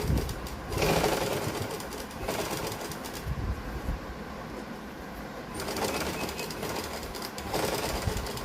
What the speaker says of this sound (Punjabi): ਜਿਹੜੀ ਸਲਾਈ ਲਾਉਣੀ ਤੁਸੀਂ ਇਸ ਕੱਪੜੇ ਦੇ ਉੱਪਰ ਲਾਉਣੀ ਹੈ